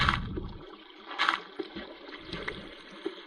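Water released in Minecraft, a gurgling, rushing flow with uneven bursts, heard close with no talk over it.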